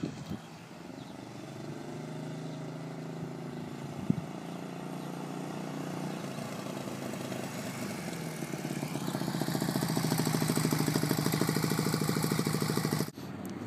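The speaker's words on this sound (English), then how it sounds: "He's responsibly riding a motorcycle." A 250 cc motorcycle engine runs steadily nearby, revving up and growing louder about two-thirds through with a rising pitch, then cutting briefly near the end; no talking.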